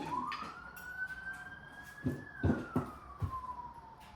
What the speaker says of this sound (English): You guys hear the sirens downstairs?